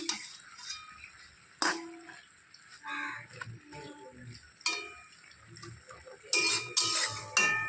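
Taro leaves stirred in a pot, with sparse clinks and scrapes of a utensil against metal, separated by quiet gaps and ending in a few louder knocks.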